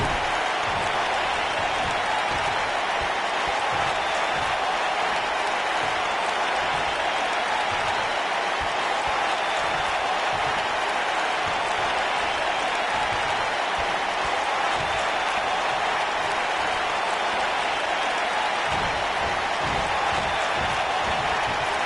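A crowd applauds and murmurs in a PS4 wrestling video game, a dense, steady wash of noise that holds at an even level throughout.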